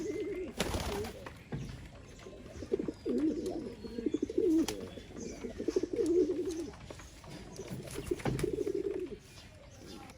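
Rajshahi Giribaj pigeons, a tumbling breed, coo in a steady run of low, throaty rolling calls close by, with brief pauses and a few soft chirps and rustles around them.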